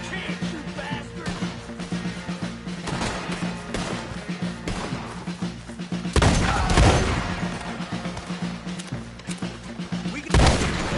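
Red Dead Redemption 2 battle: rapid, dense gunfire rattles throughout, broken by heavy cannon booms and thuds, loud and close.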